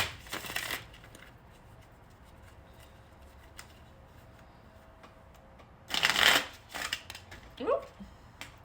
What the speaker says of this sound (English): I'm going to shuffle them all